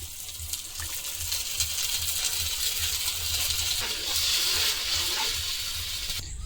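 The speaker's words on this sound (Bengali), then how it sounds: "এটার মধ্যে জল দিন সামান্য জল দিলাম" Water poured in a thin stream into a nut paste for a ridge gourd dish, a steady watery gush that continues under a low rumble throughout, fairly close.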